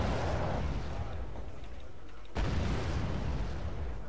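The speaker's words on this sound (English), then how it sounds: "our allies firing" Allied artillery firing in the naval combat game Wargame Red Dragon, a heavy rumbling barrage with a sharp booming report midway over a steady low roar.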